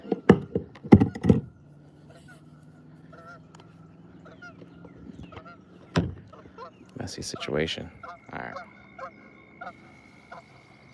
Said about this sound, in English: All right, geese, what's up?